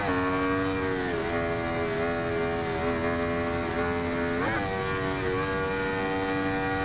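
An Aprilia Tuono V4 1100 Factory 2015 engine in the racing game Ride 2 holds a steady, loud tone, with sharp rev blips as it downshifts, the clearest about two-thirds of the way through.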